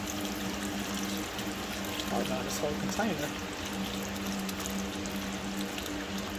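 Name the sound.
pouring beef broth into pot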